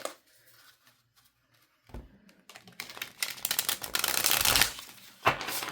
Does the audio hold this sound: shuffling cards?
yes